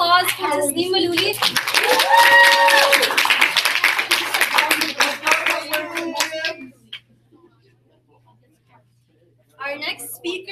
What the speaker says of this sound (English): Can we please have another round of applause for Tasneem Malouli?